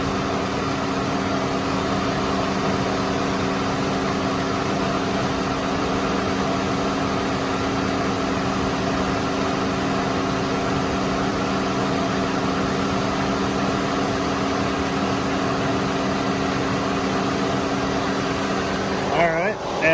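A 2004 Cadillac CTS with the 3.6L engine idles with a steady, even hum and a faint mechanical whir, holding constant for the whole stretch with no talking.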